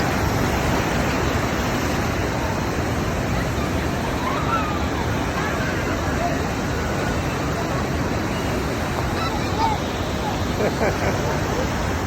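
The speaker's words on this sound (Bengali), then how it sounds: "বাবা, পাথরগুলোর উপর দিয়ে ঢেউ আসছে পড়তেছে, পাথরের উপর দিয়ে ঢেউ।" Sea waves breaking over rocks along a Mumbai shoreline, a steady loud roar of surf with continuous wash and no distinct breaks, faint voices blended into the background.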